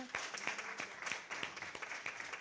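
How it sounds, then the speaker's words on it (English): Applause rises from a church congregation during a December worship service, heard as a steady run of sharp, fairly close hand claps that keep going evenly for the whole stretch, with no talking over them. "Let's have a round of applause for both of these women"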